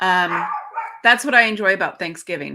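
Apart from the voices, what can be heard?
dog barking in the background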